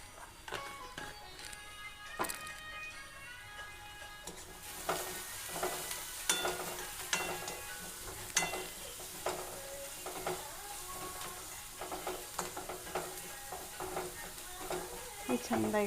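Turmeric-seasoned food frying in oil in a pan, a quiet sizzle that swells louder partway through, with irregular clicks and scrapes of stirring, close by and continuous.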